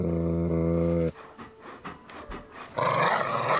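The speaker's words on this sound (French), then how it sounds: "il y a quelqu'un qui souffle derrière toi? C'est le pitbull que je me suis acheté." A pit bull pants heavily and growls close up after a long low droning tone, with breathy rough bursts in the middle and a louder noisy roar at the end.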